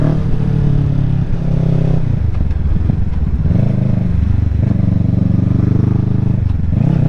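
A Kawasaki Ninja 650 motorcycle climbing mountain roads, its engine droning steadily and close throughout, with gear changes and rising revs audible between pulls.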